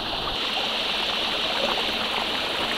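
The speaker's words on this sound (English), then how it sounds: "Little tiny flow of water just here." A small creek trickles and flows steadily beside palm trees at its edge, a continuous close, even rush of water with no voices.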